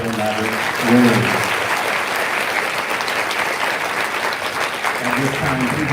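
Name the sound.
audience applause for award winners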